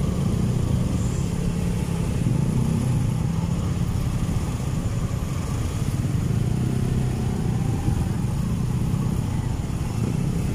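Dense Metro Manila traffic with cars and motorcycles, a steady rumble of idling and low engines close by, continuous and loud throughout without any pause or let-up.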